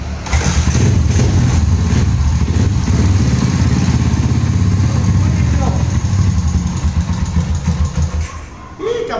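A Honda Titan 150 motorcycle, modified to 205cc with a 160 crankshaft and a rough carburettor, starts and settles into a loud, close, steady idle for several seconds before the revs fall away at the end; voices talk faintly over it.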